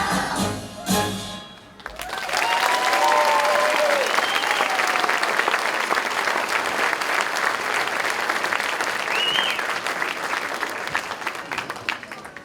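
Audience applause for a third grade choir at a school concert, beginning after a brief stretch of sung ending and then holding as a steady, dense wash of clapping with a few cheers on top.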